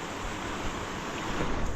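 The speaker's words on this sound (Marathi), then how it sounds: "इथे लाटा जोरात मारणार आता" Sea waves wash onto a beach as the tide rises, a broad rushing roar with wind buffeting the microphone, swelling slightly toward the end.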